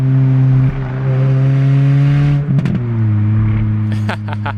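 A manual Acura TSX driving in traffic, its engine droning loud and steady from inside the cabin, the pitch dropping as gears shift with a brief clunky pause, then resuming at lower revs.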